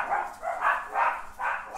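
Dogs barking indoors, four evenly spaced barks in quick succession, moderately loud and fairly close, with no other sounds between them.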